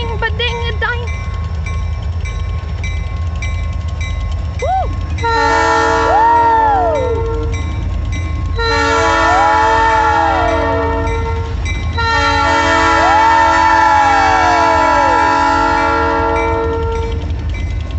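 A Kiamichi Railroad train passes close and loud, its horn sounding three long blasts over a continuous rumble of the moving cars, while a voice calls out over the noise.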